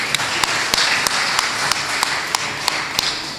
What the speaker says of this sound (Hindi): मैं चाहता हूँ कि एक बार आपके लिए एक ज़ोरदार तालियां बजाइए